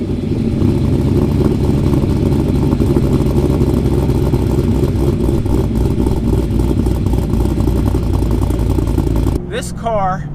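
A supercharged, cammed LS3 V8 in a Chevrolet Camaro SS SLP ZL600 with long tube SLP headers and a small pulley rumbles and revs loudly and continuously near the exhaust, then cuts off abruptly near the end as a brief voice is heard.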